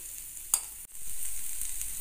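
Potatoes frying in a pan over a medium gas flame, a steady soft sizzle with one brief sharp crackle and a short drop in sound before the frying hiss returns, close and alone.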